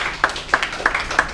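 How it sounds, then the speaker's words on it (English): Workshop attendees clap briefly in a light, slightly uneven patter of about five claps, close and moderately loud, with no talk over them. "Give him a round of applause."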